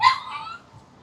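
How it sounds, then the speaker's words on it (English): On a Hollywood street, an excited dog gives one sharp bark close by, then trails off into a brief, fading whimper. "That dog was really excited to see David Duchovny's star."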